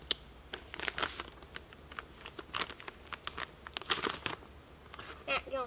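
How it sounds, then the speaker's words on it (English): Case pocket knife slicing open a plastic-wrapped mineral salt lick package for deer and hogs: repeated crinkling, tearing and scraping bursts at close range, irregular and sharp, with no talking over them. "I guess I'll open that with my case pocket knife again."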